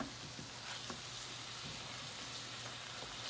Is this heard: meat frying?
yes